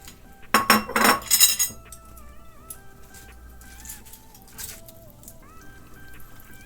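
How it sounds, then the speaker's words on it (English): Napa cabbage dropped into a pot of Korean chicken soup gives a loud clattering splash lasting about a second, then quiets under a steady background of soft tonal music. "Dropping the napa cabbage."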